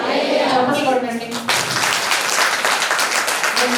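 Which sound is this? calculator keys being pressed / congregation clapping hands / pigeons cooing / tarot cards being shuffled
congregation clapping hands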